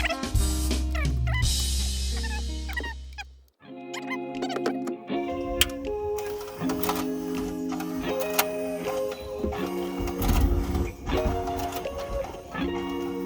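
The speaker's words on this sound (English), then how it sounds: "It's doing an initial CD check, by the way." A factory car radio CD player runs its initial disc check, giving off whirring, squeaking mechanical sounds, brief beeps and tonal chirps that continue steadily without any talking.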